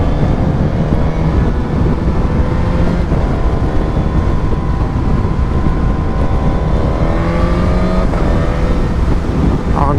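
A Suzuki GSX-S 1000 motorcycle revs while being ridden, its loud, close engine drone climbing in pitch in sweeping pulls over a constant rush of road and wind noise.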